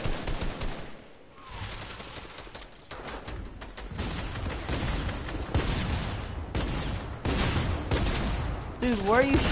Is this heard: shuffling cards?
no